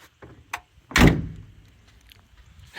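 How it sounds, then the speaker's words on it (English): A single solid thunk as an old van's front door slams shut nearby, preceded by a couple of small clicks and followed by quiet. "and the front door is closed nice."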